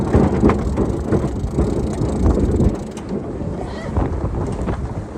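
A winch on a small sailboat is cranked in with rapid ratcheting clicks in bursts, heard close by over wind buffeting the microphone and water noise, with a brief voice in the background.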